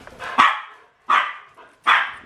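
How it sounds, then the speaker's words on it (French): A dog barks at someone at the door, three sharp, moderately loud barks spaced about a second apart, with no one talking. "Pourquoi elle aboie, Niki?"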